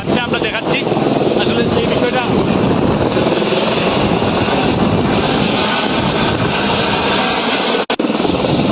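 A helicopter flies over Sylhet, Bangladesh. Its loud, steady engine and rotor drone fills the air with a reporter talking over it.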